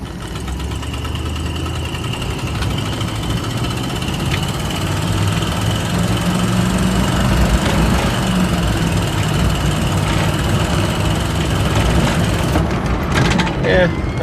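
Ford LTD V8 engine running rough on seven cylinders while cold at half throttle, a loud, continuous uneven rumble with knocking vibration under the drone, and a few sharper clicks near the end.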